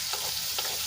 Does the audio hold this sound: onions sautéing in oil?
yes